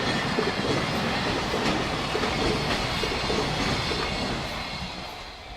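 A train rumbles past close by near JR Yamazaki Station, Japan, wheels clattering rhythmically, the loud roar fading slightly toward the end.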